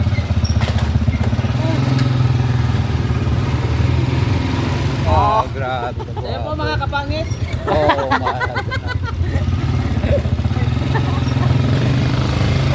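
A motorcycle engine drones steadily and loudly throughout, with people talking over it partway through.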